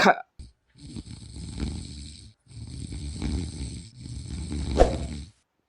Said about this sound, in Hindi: गुर्रा रहा है, कोई खर्राटा ले रहा है।